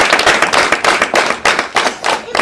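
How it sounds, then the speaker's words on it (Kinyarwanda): Parents gathered at a Rwandan community event clap for their children's teacher, a loud, dense burst of many hands slapping together with irregular surges of applause. "Ababyeyi turereye hano dukoma amashyi ku bwa tica"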